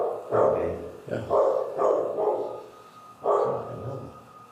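A dog barks repeatedly in loud, close bursts, roughly five barks in an uneven rhythm, with a faint room hum between them and no talking over the barks.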